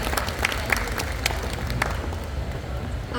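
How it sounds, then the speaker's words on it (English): Audience applause for a contestant at a pinup pageant held at a tattoo convention, a room of hands clapping with several sharp individual claps standing out, fairly close and steady. "Round of applause for Miss Liberty Belle,"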